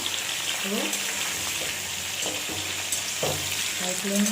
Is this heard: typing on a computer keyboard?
no